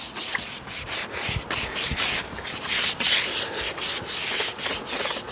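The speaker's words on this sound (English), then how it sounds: "I'm just going to use a little dustpan broom." A small dustpan broom scrubs weathered timber in quick, repeated rough strokes, the close, loud bristle rasping rising and falling in an uneven rhythm with no voices.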